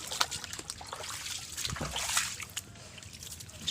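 Rain-fed floodwater runs past a goat shed, a steady close trickling and sloshing rush with scattered splashes throughout and no voices.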